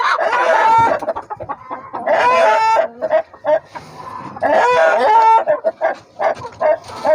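Domestic chickens cluck loudly and close in repeated bursts, with squawks and crowing-like calls mixed in and a dog barking among them.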